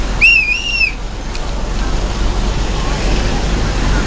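A bus travels through road traffic with a steady engine and roadway rumble, a short two-tone whistle sounding near the start, no talk heard.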